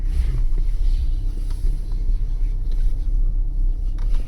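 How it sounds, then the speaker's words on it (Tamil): Heavy road traffic in a town on the way to Manali, a continuous loud low rumble of engines heard from inside a vehicle with wind buffeting, no distinct horns standing out. "பயங்கரமான டிராஃபிக்."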